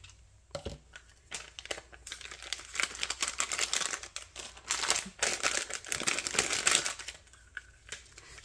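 Scissors snip small pieces from thin, crinkly sheets of fantasy film, producing close, irregular bursts of crisp crackling and rustling that swell in the middle, with no talking.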